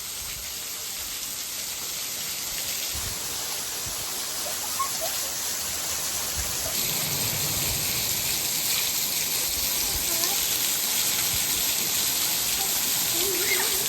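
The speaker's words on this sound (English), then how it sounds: "There's the beautiful waterfall." Waterfall in Clovelly, North Devon: a steady, close roar of falling water with hiss and spray, continuous throughout, and faint voices in the background.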